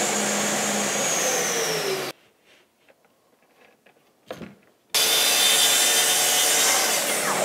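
A power saw cuts a piece of wood to a set stop for repeat cuts: a loud, steady whining cut, then a quiet gap with light handling clatter, then another equally loud cut.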